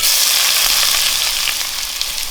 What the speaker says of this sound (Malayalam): കടുക് ഇട്ട് കൊടുക്കാം. കറിവേപ്പില, ഉള്ളി അരിഞ്ഞിട്ട് കൊടുക്കുക